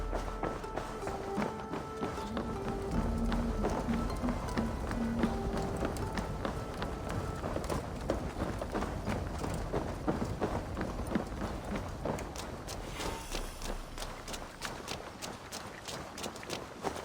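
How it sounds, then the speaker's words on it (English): In the video game Assassin's Creed Valhalla, a horse runs with a rapid, steady clip-clop of hooves throughout, moderately close and continuous for the whole stretch. "I will ready the horses."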